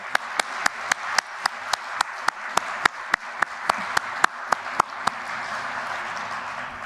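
Conference delegates applaud in a hall with a crisp, evenly spaced series of loud claps over a crowd's background murmur, the claps stopping near the end while the room noise continues.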